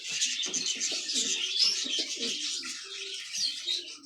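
Pigeons coo in soft, repeated low phrases beneath a dense wash of bright chirping from other birds, close and continuous.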